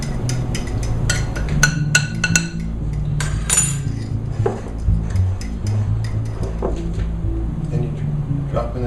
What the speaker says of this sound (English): I can just stir it up with a fork.